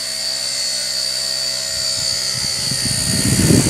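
A Blade Nano CPX micro RC collective-pitch helicopter hovering close by, its motor and rotor giving a loud steady high-pitched whine and whir that grows rougher toward the end, with no talk.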